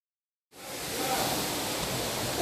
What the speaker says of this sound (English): Through the bamboo, we hear the creek, a peaceful sound that feels so unique.